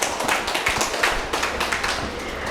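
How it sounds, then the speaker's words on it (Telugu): An audience claps loudly at a gathering, giving a busy, uneven stream of sharp hand claps that carries steadily throughout. "ఒకసారి జగతి గట్టి క్లాప్ చేద్దాం."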